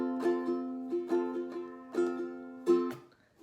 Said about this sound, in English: And if you're strumming.